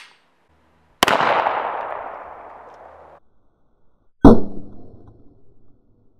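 A Beretta 92 9mm pistol fires twice at a metal pan, each shot a sharp, loud crack with a ringing metallic clang that decays over a couple of seconds, the two spaced about three seconds apart with no talk.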